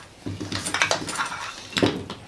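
Light metallic clinks and rattles as a camping spork is handled among packed gear, a few quick close taps and jangles with no talking.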